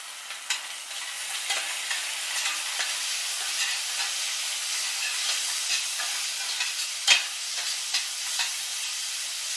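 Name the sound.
sautéing chilli paste, ketchup and salt in a pan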